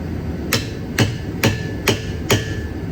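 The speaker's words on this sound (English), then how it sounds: "I'm just gonna use a screwdriver, flathead" Five sharp metal hammer strikes on a flathead screwdriver driven into a Subaru ball joint land at an even, steady pace, close and clear against a quiet background.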